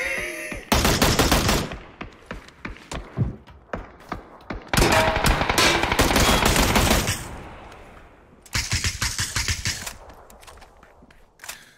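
PUBG gunfire rings out in loud bursts of rapid automatic shots, separated by brief pauses and single cracks, close and dominant with hardly any talk.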